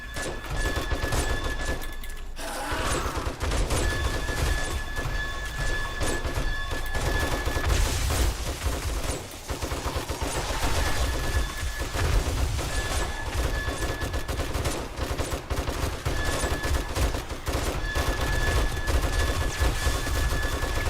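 Constant dense gunfire while shooting zombies during a chaotic high game-stage horde in 7 Days to Die, with overlapping bursts and booms throughout.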